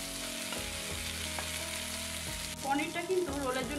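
Paneer frying in a pan with chili sauce and tomato ketchup, a loud continuous sizzle with a few stirring knocks and a burst of sharper spitting and bubbling toward the end.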